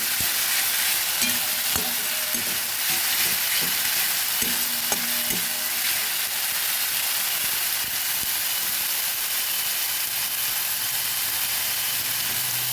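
Onion fries with ground spices in hot oil, a dense, loud, continuous sizzling hiss broken by light stirring taps and scrapes of a spoon against the pan.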